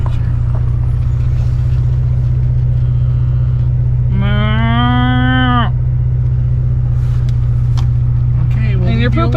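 Cow lowing in one long, drawn-out moo mid-clip, close and clear over a constant low engine hum from an overlanding vehicle on Utah's Backcountry Discovery Route, with faint voices nearby.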